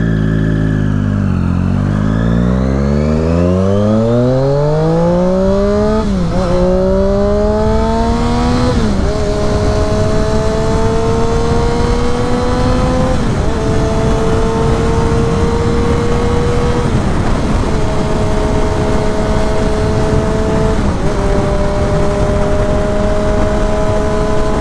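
Triumph Daytona 675 motorcycle fitted with a loud SC Project exhaust accelerating through three gears, a rising engine howl broken by several clear upshifts, loud and close throughout with no talking.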